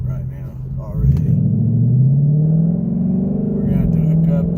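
A 2019 Ford Mustang GT PP1 V8 with its catalytic converters deleted gives a loud, steady low exhaust drone that swells as the engine revs up, then holds a deep, throaty rumble, heard close from inside the car.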